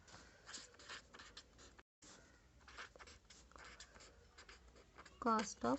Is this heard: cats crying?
no